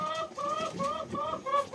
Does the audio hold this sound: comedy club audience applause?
no